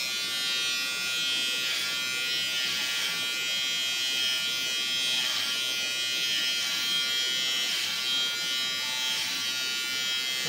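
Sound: electric shaver shaving a man

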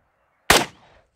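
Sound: gunshot from a pistol caliber carbine firing cast bullets

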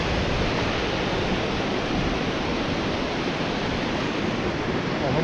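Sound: rushing mountain river water on a trek

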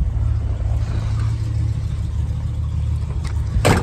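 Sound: 1964 Oldsmobile Starfire engine running, dual exhaust

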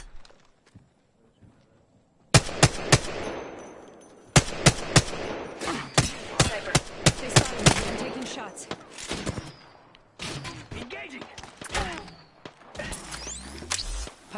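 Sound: gunfire in a video game

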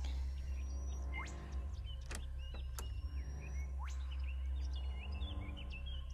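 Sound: birds chirping in the video game Nevermind

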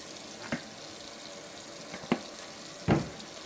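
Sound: washing hands under running tap water

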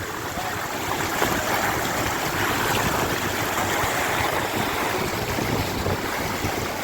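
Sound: rushing floodwater

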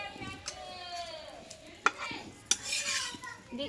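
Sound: roti frying in white oil

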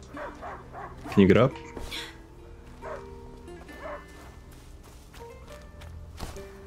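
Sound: dog barking in the video game A Plague Tale: Innocence

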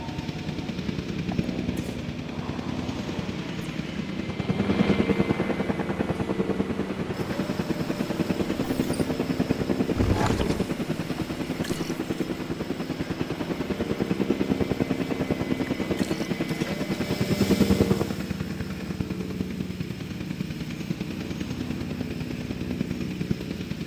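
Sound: helicopter lifting off in video game Jurassic World Evolution 2

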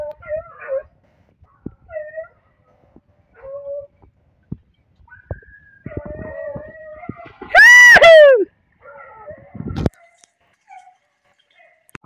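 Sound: dogs playing and whimpering

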